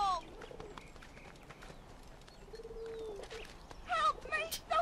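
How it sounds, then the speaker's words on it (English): Pigeons coo softly in an Assassin's Creed game scene, faint low calls amid street ambience with hoof clops and chirpy bird sounds rising near the end. "Pigeons. Oh, there they are. They're right there."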